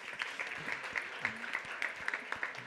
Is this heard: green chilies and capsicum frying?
no